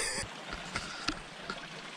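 Paria River flowing through a canyon, a soft, steady wash of running water with a few faint splashes and trickles, quiet and close, with no voices.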